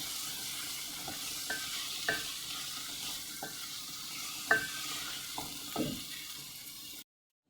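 Swiss mushrooms and baby carrots stir-frying in a pan for a quick rice dinner, a steady close sizzle with occasional scraping stirs and clinks, no voices, cutting off abruptly near the end.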